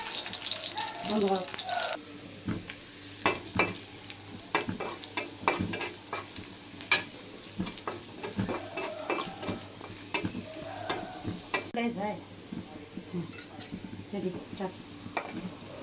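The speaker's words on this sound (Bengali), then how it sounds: "রসুন কুচিটা একটু ভাজা ভাজা হয়ে আসলে এতে দিয়ে দিব শুকনো মরিচ" Sizzling oil with garlic and dried chili frying, steady crackle throughout, with frequent clinks and scrapes of a utensil stirring in the pan.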